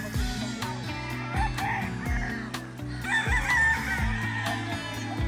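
Several roosters at a gamefarm in Tarlac crowing nearby and farther off, overlapping calls with some clucking in between, fairly clear with little talk.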